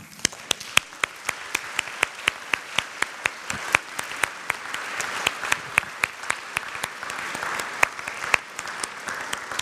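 Applause from a church congregation during a Sunday service, a steady, dense clapping that continues evenly throughout with a few sharp individual claps standing out.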